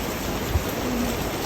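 Steady rain falls on a rainy day, a dense, even hiss with no voices, continuous and fairly close throughout.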